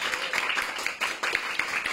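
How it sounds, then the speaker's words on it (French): A small class gives brief applause at the end of its last art history lesson, with light, uneven hand claps from a few people close by. "ce petit applaudissement à la fin du dernier cours"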